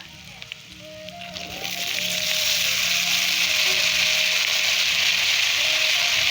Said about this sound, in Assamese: এইখিনি লগত দিছোঁ বুটগুটি, আলু আৰু সজিনাখিনি মই ভাজি লওঁ।